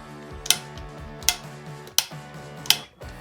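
A torque wrench tightens scope mount screws to 45 inch-pounds, giving four sharp, evenly spaced clicks over a low steady background hum, close and clear.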